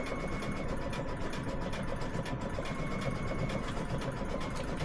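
An embroidery machine stitches the word sweet onto a tea towel, a rapid, steady mechanical whirring with fast repetitive needle clatter, close and continuous.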